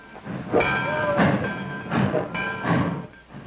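A train in a 1952 western film rolls past in a few heavy rhythmic surges, with a tonal whistle-like ring and a rumbling roar that swells and fades, fairly loud and near.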